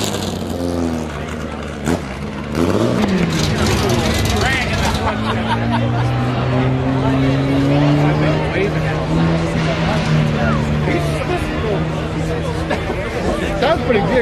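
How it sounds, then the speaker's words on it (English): A Volkswagen Bug engine with open headers revs loudly at a hot rod open header contest, its pitch climbing and holding in long pulls amid crowd chatter and talking. "That's a bug motor?"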